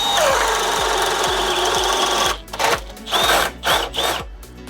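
A DeWalt 12V hammer drill in speed 2 bores with a 1-inch Speed Demon bit, a loud, steady, close whine that cuts out and then returns in several short, uneven bursts as the bit breaks through.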